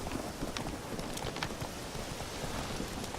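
Horse hooves clip-clopping at night in The Witcher 3: The Wild Hunt, a steady irregular trot of close, moderately loud hoof strikes over a soft rain-like background, with no talking.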